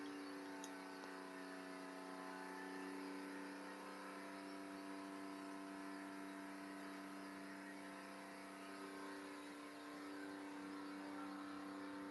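A Porsche 911 engine, freshly assembled and on its first startup, is revved and held steady at about 4,000 rpm, giving a continuous, even, loud engine drone with no talking over it.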